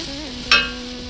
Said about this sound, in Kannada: ಈಗ ನಾನು ಹುರಿದಿರೋ ರವೆ ಆದ್ದರಿಂದ ನಾನೀಗ ಒಂದು ನಿಮಿಷ ಹುರಿತೀನಿ